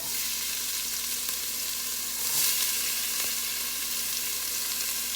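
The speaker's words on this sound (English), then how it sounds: "We're gonna throw our onions in there." Onions hit hot olive oil in a cottage kitchen while lentil soup is being made, producing a loud, continuous hissing sizzle that swells briefly and then holds steady with no talking.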